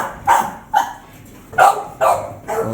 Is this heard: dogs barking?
yes